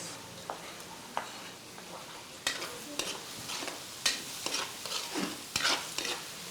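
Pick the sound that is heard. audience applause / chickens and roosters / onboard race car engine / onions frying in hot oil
onions frying in hot oil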